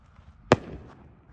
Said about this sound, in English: Never lit a rocket like this before.